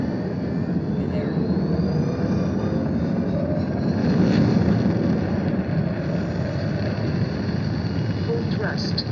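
Spaceship engine thrust in a space video game, a loud continuous roaring rumble that holds steady with a slight swell midway, while a voice speaks over it.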